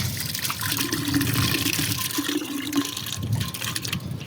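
Water runs steadily from an outdoor spigot beside a garden planter, a continuous splashing wash with faint low gurgles, moderately close and alone without voices.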